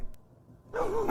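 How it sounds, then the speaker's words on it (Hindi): Village dogs bark at night: after a quiet stretch, a single rough bark-like burst rises near the end, heard alone without talk. "थोड़ी दूर पर गांव के कुत्ते भौंक रहे थे।"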